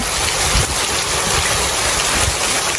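Heavy rain pours down in Jaffna, a loud, dense, unbroken hiss that fills the whole stretch with a deeper rumble underneath.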